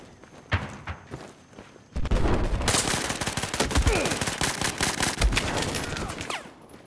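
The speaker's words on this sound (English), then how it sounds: "I was trying to shoot through the wall" Battlefield 4 multiplayer gunfire: a few isolated thumps, then sustained rapid automatic fire in dense, loud bursts with a rattling rhythm that tapers off at the end.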